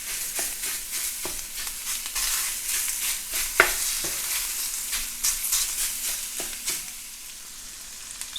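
Crumbled sausage sizzling steadily in a hot pan, with scraping clicks and knocks as a spatula breaks the meat apart while it browns, fairly close and continuous with no talking.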